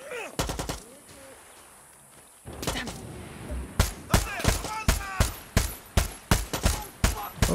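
Gunfire in Far Cry 6: an early burst of shots, a lull, then a steady run of loud, evenly spaced reports growing more regular, with talk heard between them.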